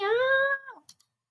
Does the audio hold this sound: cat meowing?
yes